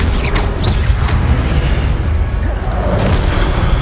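Incendio fire spell cast in Hogwarts Legacy, a loud, dense, roaring burst of fiery booming that fills the whole stretch without a break, with no pause or quiet moment.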